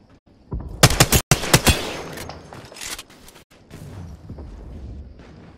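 Several sharp gunshots in quick succession in the Apex Legends game, loud and close, followed by trailing rumble and fainter scattered shots.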